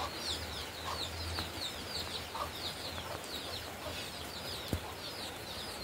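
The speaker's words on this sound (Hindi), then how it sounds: "घर का अंदर में भी हम लोग यहाँ में मुर्गी घूमते हैं" Chickens and chicks clucking and peeping inside a village house in Kra Daadi district, Arunachal Pradesh, a steady chorus of soft, high calls close by over a low background hum, with one sharp knock near the end.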